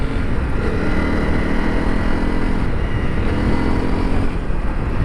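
A motorcycle is ridden down a mountain road, giving a loud, continuous engine drone close to the microphone, blended with heavy rushing wind and road noise and holding steady throughout, with no speech.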